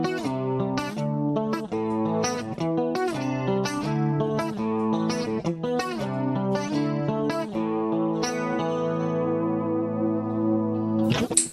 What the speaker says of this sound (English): this is a COSM model of the Roland Jazz Chorus